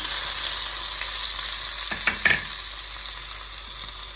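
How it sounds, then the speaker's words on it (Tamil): Chopped onion and tomato crackle in hot oil in a pan for a chicken gravy, a constant bright sizzle with a couple of quick stirring scrapes near the middle and no voices. "ஹீட் ஆனதும் அரிஞ்ச ஆனியனும் தக்காளியும் போட்டுக்கலாம்"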